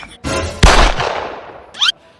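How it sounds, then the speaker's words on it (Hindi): Gunshots from a gun, a sharp blast followed by a louder crack that rings out and decays, then a brief high whistling zip at the end, close and loud with no talk. "हर बात पर गोली चलाना जरूरी है क्या?"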